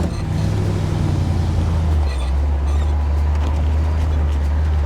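A 1967 Impala SS with a big block engine and four-speed driving, a loud steady low engine rumble heard from inside, holding a constant drone with a slight shift in pitch partway through.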